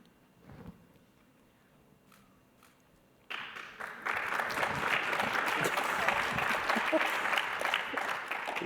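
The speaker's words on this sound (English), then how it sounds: "we applaud for the craziest things around here" Audience applause at a carbon pricing conference session breaks out after a few quiet seconds with scattered taps, then swells into steady, loud, dense clapping that fills the rest of the stretch.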